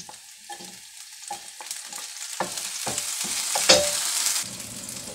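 Chopped onion and garlic frying in coconut oil in a pan, a steady close sizzle that swells and grows brighter as the pieces are stirred, with scattered scrapes and clicks of the utensil.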